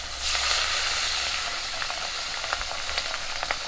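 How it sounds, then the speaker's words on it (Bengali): Pabda fish frying in hot oil in a karai, giving a loud, steady close sizzle with scattered crackles and spatters throughout, with no voices. "তেলটা গরম হয়ে গেছে আর মাছগুলো ভালো করে মাখিয়ে নিয়েছি, কড়ার মধ্যে দিয়ে দিচ্ছি।"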